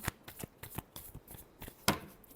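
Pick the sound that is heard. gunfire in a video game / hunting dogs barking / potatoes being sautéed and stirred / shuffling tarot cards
shuffling tarot cards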